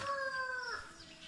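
A short, close chicken call, a drawn-out clucking cry that rises and then trails off, with faint farmyard background.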